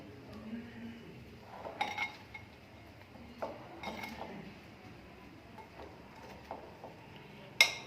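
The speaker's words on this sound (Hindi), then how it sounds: "अच्छे से इन सब चीज़ों को मिक्स कर लेंगे।" Carrot, cauliflower and turnip pickle ingredients stirred together with four tablespoons of cooled oil, giving quiet, intermittent scraping, creaking and light clinks of a utensil against the bowl, with a sharper clink at the end.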